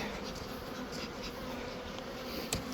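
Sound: bees buzzing

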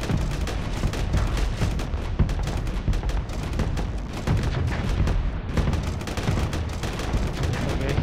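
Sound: missiles being fired in the video game Star Sector

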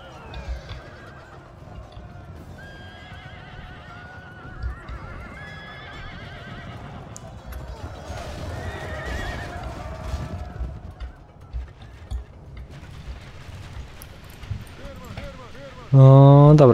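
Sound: horses neighing and hooves in video game De Bello Mundi

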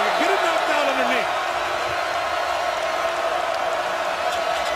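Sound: basketball crowd cheering on the Notre Dame defense

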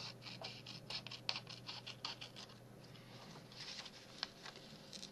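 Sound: cutting envelope paper for a booklet

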